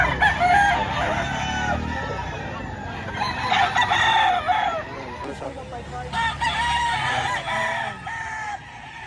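A rooster crows loudly several times close by in Lipa, Batangas, with hens clucking and other farmyard birds in the background.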